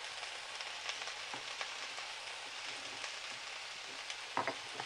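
Crushed garlic sautéing in a pan for okra gravy: a soft, steady crackling sizzle with faint scattered pops, heard close and alone throughout.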